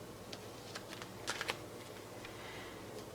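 Tarot cards handled and shuffled quickly while searching through the deck, quiet soft flicks and taps in a few small clusters, the loudest near the middle, over low background hiss without speech.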